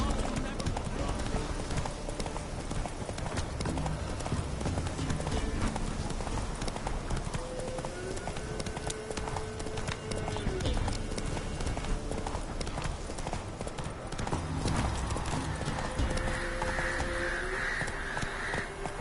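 A horse gallops in The Witcher 3 on PS4, its rhythmic clip-clop hoofbeats running steadily under a player talking, along with game music and ambience.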